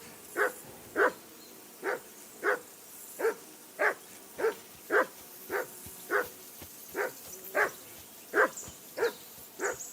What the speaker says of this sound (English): Henry, that barking's driving me nuts. Can you get your dog to shut its beak